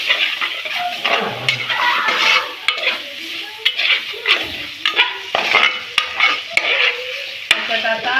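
Spices stirred into a hot frying pan for clam biryani, with steady sizzling and repeated scraping and clinking of a spoon against the metal pan in close, rhythmic strokes.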